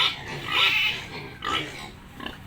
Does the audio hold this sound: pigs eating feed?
yes